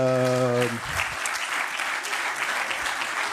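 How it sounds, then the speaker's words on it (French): Conference audience at a French materials-science symposium breaks into applause right after a short tone, steady clapping filling the room to the end with a faint voice underneath. "Je vous demande de les applaudir."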